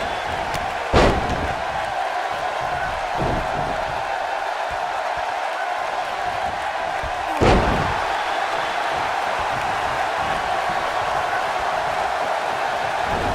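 Steel cage door slamming shut in the WWE 2K19 wrestling video game, two loud metallic bangs several seconds apart over a steady arena crowd roar.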